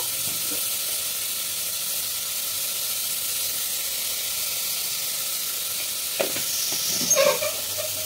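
Chicken sizzles in a pan for soup with a steady broad hiss, and a couple of brief scraping clinks from stirring near the end, close and continuous.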